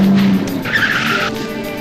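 A car's tyres skid and squeal hard against the road, a loud sustained screech over steady engine roar, with no talking.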